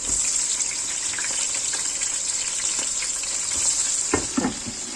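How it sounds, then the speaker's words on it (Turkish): Eggplant slices frying in oil in a pan, a steady bright sizzle throughout with a few small pops and a clatter near the end, close and fairly loud. "Patlıcanlarımızı kızartacağız."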